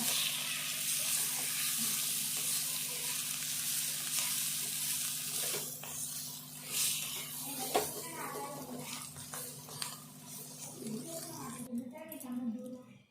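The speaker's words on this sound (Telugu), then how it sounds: "కొద్దిసేపు వేగాలి ఇట్లా దగ్గర వేగితే సరిపోద్ది" Bitter gourd frying in a pan for a spicy karam dish: a steady broadband sizzle runs throughout with occasional scrapes of stirring, and a voice talks over it near the end.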